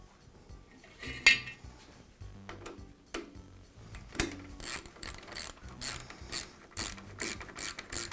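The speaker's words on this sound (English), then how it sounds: "So I'll tighten the spring just a little bit more." A Jet drill press feed shaft spring is wound tighter by hand, giving repeated ratcheting clicks and mechanical clatter in uneven bursts, close and moderately quiet, with no talking.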